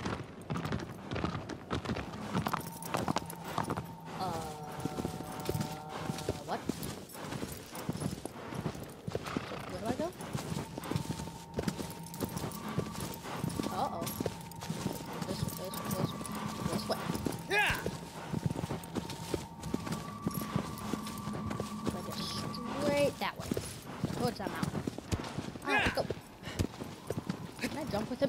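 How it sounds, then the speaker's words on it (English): Horse hooves clip-clopping in the video game Shadow of the Colossus, a steady galloping rhythm with occasional neighing, heard under someone talking over game music. "Thought I can jump with the horse."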